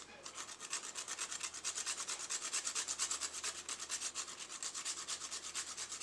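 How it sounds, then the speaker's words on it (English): A piece of fresh nutmeg is grated for pumpkin pie filling, giving quick, even, rhythmic scraping strokes, close and fairly quiet, with no talking. "we're going to grate a piece of fresh nutmeg"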